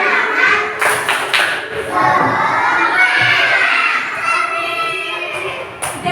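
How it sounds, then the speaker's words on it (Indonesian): A group of schoolchildren and a teacher in a classroom do a rhythmic spirit clap, with loud clustered claps and thumps mixed with shouting voices across the whole stretch. "supaya kita semangat, kita tepuk semangat dulu"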